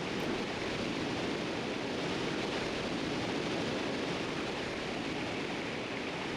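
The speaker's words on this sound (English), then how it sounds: "At least the waterfall sound effects are chill" Waterfall ambience from Tomba! 2: The Evil Swine Return, a steady broadband rush of falling water, constant and even in level throughout, with no other sounds standing out.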